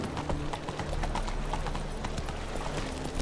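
Roach the horse galloping in The Witcher 3, a fast, even run of hoofbeats close up, loud and continuous for a few seconds, with no talking.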